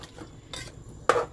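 A spoon scrapes and stirs through mutton keema and beans with a little water in a pressure cooker, giving a few short, close scraping strokes, the last one louder.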